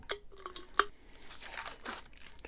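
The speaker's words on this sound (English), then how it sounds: "Let's see if I can get the tape off of it." Tape peeled off a tumbler, a sequence of short tearing and crinkling rips, one sharp snap partway through, close and fairly loud with no talking.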